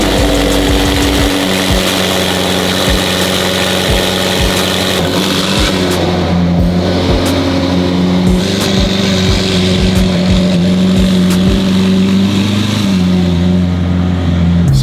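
A car engine is started and revved hard, loud and close, holding a steady heavy drone with rising and falling pitch and sharp bursts throughout.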